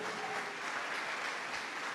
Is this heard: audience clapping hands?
yes